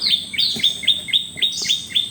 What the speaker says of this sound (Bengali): শব্দটা দেখছো পাখি যে ডাকতেছে